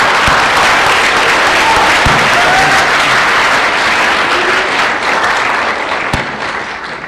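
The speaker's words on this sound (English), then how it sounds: "Big round of applause." Audience applause at an awards ceremony: a dense, loud, sustained wash of clapping from a large crowd, close and continuous, tapering slightly at the end, with a faint voice or two under it.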